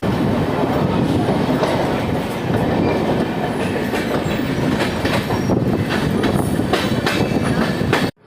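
The Sabarmati Express departs Ballia station with a loud, continuous rail rumble, rhythmic clickety-clack of wheels and faint squeals, heard close for several seconds before cutting off abruptly.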